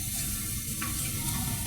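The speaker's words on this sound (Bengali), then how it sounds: "এখন কড়াইয়ের মধ্যে তেল দিয়ে দেওয়া হচ্ছে।" Soybean oil heating in a wok gives off a soft, steady sizzle and hiss at low volume, a brief faint click partway through and no talk.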